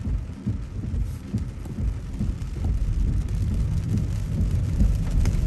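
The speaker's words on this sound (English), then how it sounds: "Man, that was heavy rain." Heavy rain pours down steadily, a dense, loud roar of water with no break and no voices.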